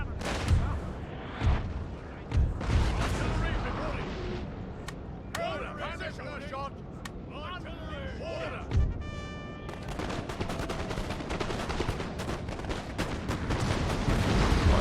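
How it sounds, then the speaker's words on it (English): Cannon fire in the strategy game Napoleon: Total War, repeated booming shots scattered across a busy battle soundscape, with several heavy thumps early and late amid continuous mid-level clatter and occasional game voices. "look at all of these cannon shots like bouncing around all over the place"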